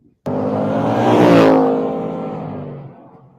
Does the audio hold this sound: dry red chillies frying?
no